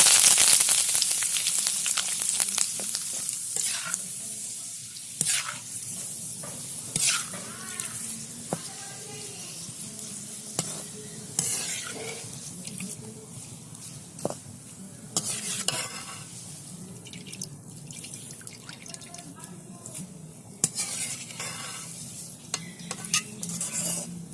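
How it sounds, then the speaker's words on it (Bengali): Curry leaves fry in hot oil in a home kitchen, giving a steady bubbling sizzle with scattered sharp clinks and scrapes of a utensil stirring against the pan. "কারি পাতা ভেজে নেব"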